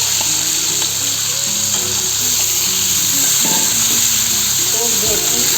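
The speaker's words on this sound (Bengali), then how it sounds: "এখন আমি পটলগুলোকে অল্প অল্প ভেজে নেব।" Pointed gourd (potol) frying in hot oil in a kadai, a loud, close, continuous sizzle and crackle that holds steady throughout, with faint stirring knocks underneath and no one speaking.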